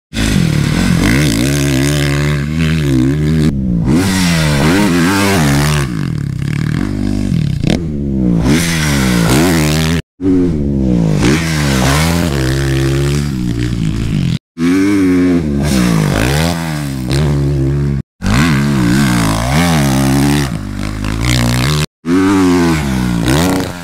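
A motocross dirt bike roars close by as it is ridden hard, its engine rising and falling through gears in repeated revving surges with brief cut-offs between runs.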